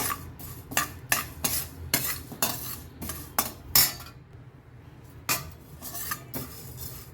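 Urad dal dry-roasting in a pan, stirred constantly with a metal spoon: repeated scraping clinks and rattling strokes in an uneven rhythm, close and fairly loud, with a quiet pause near the end and no talk.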